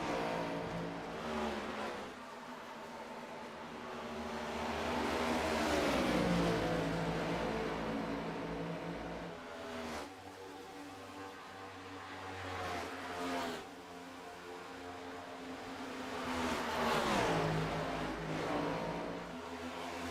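Race cars in the Hauck Designs Gen 6 series lapping a Texas oval, engines roaring and swelling as they pass close by in a steady sustained drone with rising and falling pitch, no talk.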